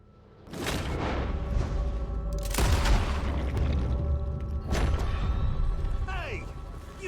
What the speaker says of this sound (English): What if I just shoot the weapon out of his hand?